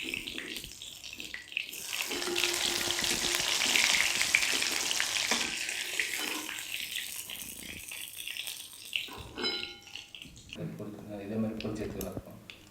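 Breaded prawn fingers deep fry in hot oil on a stove turned down to a simmer, a loud continuous bubbling sizzle that swells and then thins out, close up, with someone talking over it.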